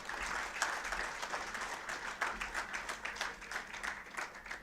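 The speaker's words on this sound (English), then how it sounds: "Let us give the paper presenters a round of applause." An audience applauding steadily at an academic conference session, a dense patter of many hands clapping together at moderate volume, continuing throughout without voices.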